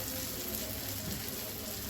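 Tomato and onion cook in a pan for a Maharashtrian vangyache bharit, giving a soft, even sizzle that stays faint and steady throughout, with no voices.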